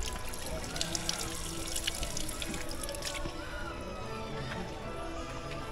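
Water runs and trickles steadily from a hillside spring on a climb, a continuous wash of flowing water close by, with faint outdoor noise around it.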